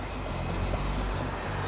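A passenger airplane leaving Mexico, its engines a loud, continuous roar that stays steady and close throughout with no voices on top.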